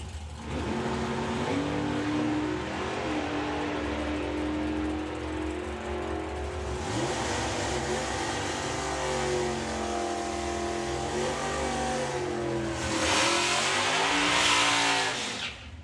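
Drag racing cars accelerate hard down the strip at a drag racing meet, with engines rising and shifting in pitch across repeated rising sweeps and a louder surge near the end, heard from a distance.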